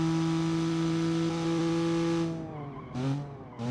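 A car engine hums steadily, then drops in pitch as the vehicle slows, with brief squealing bursts near the end as it brakes.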